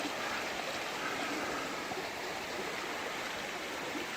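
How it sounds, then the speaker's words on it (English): A creek flowing near a campsite makes a steady, dense rush of water that stays constant and close with no other sounds breaking through. "It's hard to hear anything with that creek"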